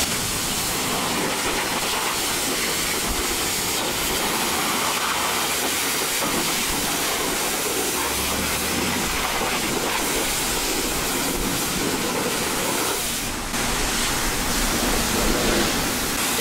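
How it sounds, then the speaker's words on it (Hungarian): High-pressure washer wand spraying a motorcycle in a car-wash bay, a loud, continuous broadband hiss and roar that barely changes over sixteen seconds, with a brief dip near the end. "Második lépés, a nagy nyomás a mosás."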